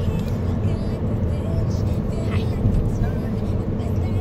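Car interior on a very bumpy road, a steady low rumble of engine and road noise with rattling jolts throughout, a voice talking faintly beneath.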